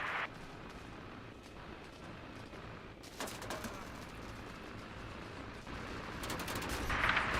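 Gunfire in the video game Arma Reforger, dense rattling bursts of shots around 3 seconds and again near the end over a steady rumbling engine-like background, fairly distant and continuous.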